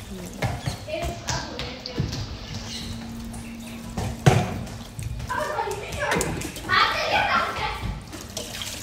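Water poured from a vessel over a small idol of the goddess during a home bathing ritual, splashing in short bursts amid children's chatter and voices close by.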